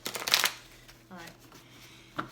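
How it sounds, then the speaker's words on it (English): A brief riffling burst of cards being shuffled, followed by softer handling noises and a short later rustle. "one more soft shuffle for you guys"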